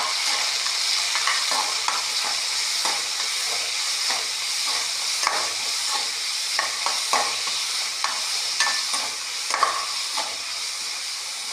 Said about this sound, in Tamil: இப்போது நல்லா வதக்கிடலாம்.